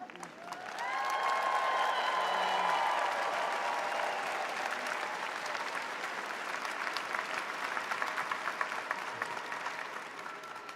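A graduation ceremony audience for Southern New Hampshire University doctoral and graduate programs cheers and applauds, a loud sustained burst of clapping with whoops that swells early, then settles into steady dense clapping.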